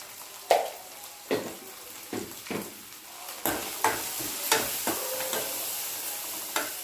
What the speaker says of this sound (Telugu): పసుపు కూడా ఆయిల్లో వేసుకుందాం